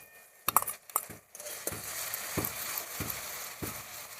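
Onions fry in a pan as ginger-garlic paste goes in, a continuous close sizzle broken by sharp scrapes and knocks of a spoon stirring against the pan at a loose, repeated rhythm.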